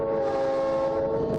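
A 1948 BL2 diesel locomotive hauling a 500-ton excursion train, a steady loud engine drone with a sustained horn-like tone, close and continuous.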